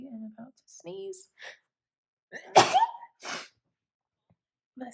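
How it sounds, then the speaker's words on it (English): A single loud sneeze bursts out midway, framed by quiet breathy sounds and soft speech before and after. "I am about to sneeze."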